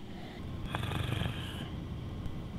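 A 32-year-old office worker snores loudly while asleep in his parked car in a parking lot at midday: a single rasping, rattling snore swells up mid-clip over a steady low background hum.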